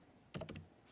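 A short burst of typing on a computer keyboard, a few quick close clicks in a quiet room.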